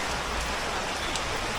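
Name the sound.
rain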